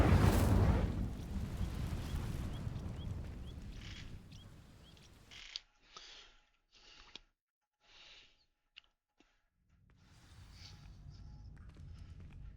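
An Incendio fire spell from Hogwarts Legacy ignites dry vines with a loud whooshing burst of flame that slowly dies down, followed by quieter scattered game effects and a soft rumble returning near the end.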